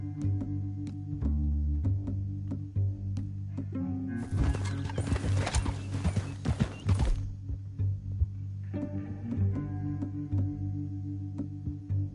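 Horse hooves clop rhythmically over a steady low musical drone, with a brief burst of louder rattling noise midway, from the video game Red Dead Redemption 2.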